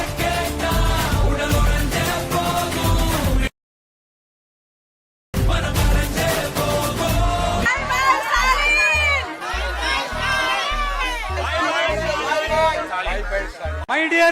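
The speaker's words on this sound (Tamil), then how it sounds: "மக்களோட சத்தம் கேக்குதா?" Large political rally crowd in Tamil Nadu, many voices shouting and cheering together, loud and dense, with a brief silent gap partway and a music-like pulsing layer joining in the later half.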